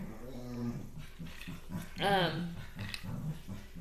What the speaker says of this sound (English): Can you even hear me over this crazy dog?